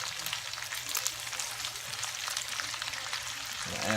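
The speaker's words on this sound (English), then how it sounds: "Kind of want to saute that down a little bit, let all that seasoning all come together as one." Vegetables and seasoning sizzle steadily in leftover peppered bacon grease from thick-cut bacon, a close, continuous crackle and spatter with no pauses, like a jambalaya base sautéing in a hot pan.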